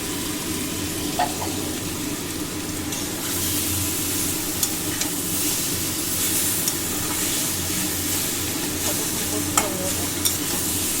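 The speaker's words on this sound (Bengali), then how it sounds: "তেল দিয়ে দিচ্ছি আমার সরষার তেল লাগে" Crab and taro curry cooking in mustard oil in a pan, with a steady loud sizzle and the scrape of stirring throughout, plus occasional clinks of a utensil against the pan.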